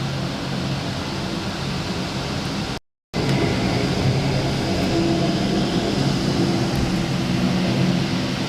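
A Jazz airliner coming in to land on runway 24 left at Toronto Pearson, heard as a loud, steady broadband engine roar that fills the whole stretch, with a brief dropout partway through and no voices.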